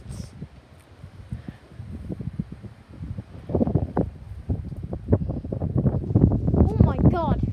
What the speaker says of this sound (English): It's very dangerous in these type of wind gusts.